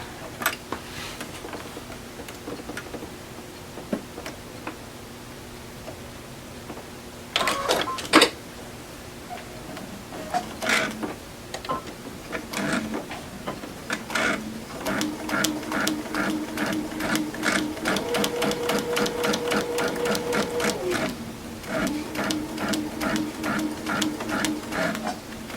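Sewing machine stitching a quilting seam for a stretched geese block, running in several bursts of rapid, steady needle ticking with pauses between, at moderate level and close by.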